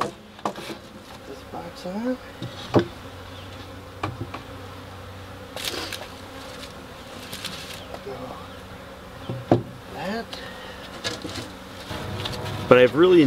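Honey bees buzz steadily around an urban backyard apiary, individual insects swelling louder as they pass close to the microphone, with faint background activity throughout.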